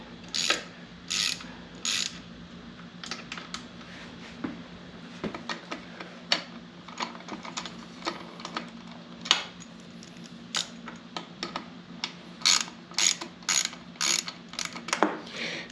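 A ratchet loosens small 7mm bolts on a Beta 200RR dirt bike, making bursts of quick metallic clicks broken by single taps and pauses. The sound is close and fairly quiet, with no talk.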